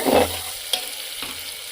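Chana dal with spices sautéing in a pan gives off a steady sizzle, with a soft scrape of stirring near the start and a couple of light clicks against the pan.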